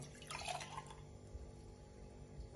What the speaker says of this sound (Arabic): بحط المي بالركوة